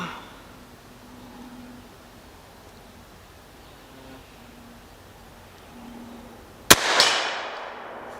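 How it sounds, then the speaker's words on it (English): A single loud gunshot cracks out while hunting through brush, a sharp blast followed by a brief rolling echo, preceded by several seconds of quiet outdoor ambience with faint insect buzzing. "Oh, second shot, we got her."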